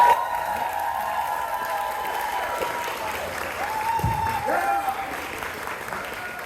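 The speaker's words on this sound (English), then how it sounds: "let's give Principal Kelly a round of applause" An audience at Dr. MLK Jr. College Prep High School applauds Principal Brian Kelly at a surprise award presentation, sustained clapping with some cheering beneath a voice that keeps talking over it.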